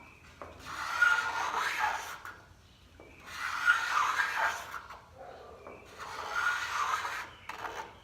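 A Festool paint nib remover scrapes across a paint run in three slow, even rasping strokes, each a close, dry shaving rub separated by short pauses.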